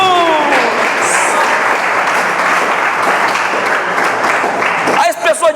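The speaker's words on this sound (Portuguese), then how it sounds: "aplaudam o nome do Senhor Jesus." A church congregation bursts into sustained applause during a worship service, dense and steady clapping filling the room, with a few voices breaking through near the end as it tapers.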